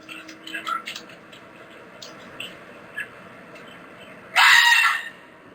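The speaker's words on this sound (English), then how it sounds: "That is literally the noise that a fucking fox makes." A fox gives one harsh, loud scream in a short burst near the end, after a quiet stretch of faint background noise with some talk.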